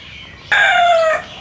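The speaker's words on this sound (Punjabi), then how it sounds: "ਇਹ ਦੇਖੋ ਦੇਸੀ ਮੁਰਗਾ।" A desi rooster in a Pakistani village crows once, loud and close, with one sustained call lasting about half a second over quiet background.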